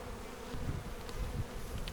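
Bees buzz continuously at a beehive, a dense steady hum close by with slight swells in loudness and no voices.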